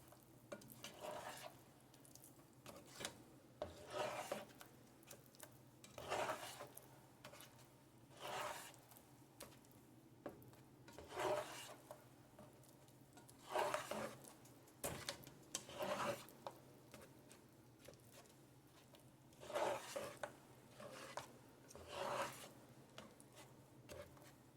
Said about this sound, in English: I'm going to stir it together until it's a sauce.